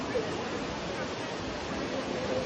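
A Rome fountain sends out a steady, broad rush of flowing water. The noise is dense and continuous, with faint crowd murmur mixed in.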